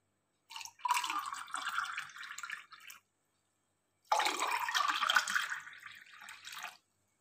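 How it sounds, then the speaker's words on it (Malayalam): Water added to a glass of aloe vera, ginger and lemon juice mixture, two separate pours each lasting about two seconds with a bright splashing stream, close and fairly quiet, no talking. "ഇനി ഇതിലേക്ക് ആവശ്യമുള്ള വെള്ളം ചേർത്ത് കൊടുക്കാം."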